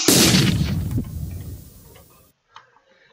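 Flashbang grenade detonating in a Unity game: a loud, sharp blast opens the clip with a bright burst, a second thud follows about a second later, then the sound decays to near silence with a faint tick at the end.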